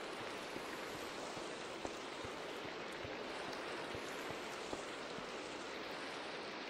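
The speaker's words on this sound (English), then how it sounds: "It's raining." Steady rain falls in a Minecraft game, a dense even hiss of water with faint scattered drops and no talking, holding at a constant low level throughout.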